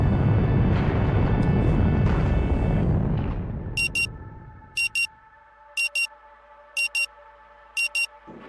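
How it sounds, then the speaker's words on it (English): A frenetic alarm rings in the video game Rue Valley, a string of five evenly spaced double-pulse electronic beeps over a steady hum after a loud, dense rumbling passage fades out. "The frenetic sound of the alarm nudges you back to the present."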